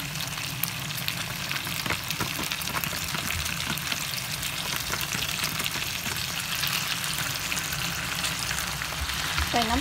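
Pork and kimchi stir-fry in a pan with a loud, continuous sizzle and crackle, occasional stirring clinks, and a faint voice underneath.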